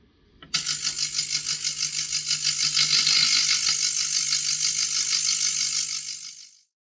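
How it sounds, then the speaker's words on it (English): An ultrasonic cleaning machine for watch parts, used during a Cartier Pasha service, starts with a click and then gives a loud, steady high-pitched buzzing whine with a low hum beneath, running continuously for about six seconds before cutting off. "beware that the noise of the ultrasonic isn't entirely pleasant"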